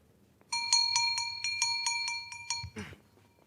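A doorbell rings on a theatre stage during a performance of The Importance of Being Earnest: a loud, bright repeated chime of about ten rapid strokes over nearly two and a half seconds, ending with a short thump.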